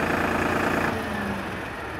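A tractor engine rumbles at idle, then cuts off partway through, leaving the low hum to fade and die down, no talking.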